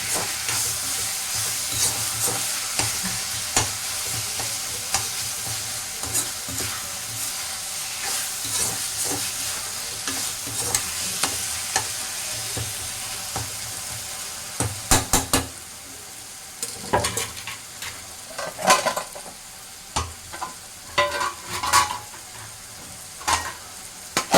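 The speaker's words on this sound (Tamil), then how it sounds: "நல்லா வதங்கட்டும்." Onions and tomatoes sautéing with salt in a pan, a continuous close sizzle under frequent scraping stirs that grow sharper and more clattery toward the end, no talk.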